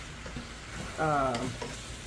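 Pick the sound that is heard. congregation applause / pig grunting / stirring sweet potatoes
stirring sweet potatoes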